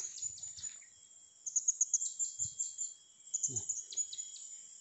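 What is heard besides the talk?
birds chirping in the forest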